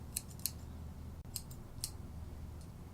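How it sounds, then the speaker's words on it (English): Curved grooming scissors snip a poodle's coat in a few quick crisp clicks, scattered in small clusters over a quiet background with no voices. "The curves. The curved scissors."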